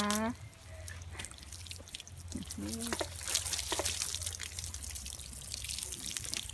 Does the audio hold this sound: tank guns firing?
no